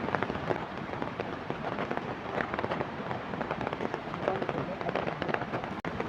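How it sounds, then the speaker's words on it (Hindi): Continuous rain pours down on a hillside in Chamba, Himachal Pradesh, while water runs off from above, making a steady, dense, loud patter with no break. "ये देखो यहाँ पे एक बार लगातार बारिश के चलते ऊपर से पानी आता जा रहा है"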